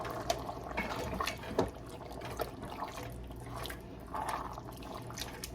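Prego pasta sauce poured from a 24-ounce jar into a pot for goulash, a quiet wet gurgling and dripping over a low background hum, with a few faint knocks.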